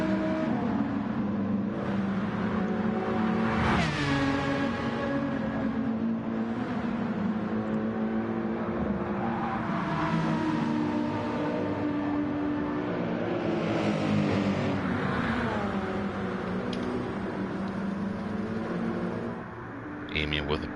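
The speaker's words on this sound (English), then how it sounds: "Another overtake here from an LMP1 against the GT3." An LMP1 prototype overtakes a GT3 race car during the 24 Hours of Le Mans, with engines roaring and sweeping past in pitch beneath steady race commentary that continues throughout.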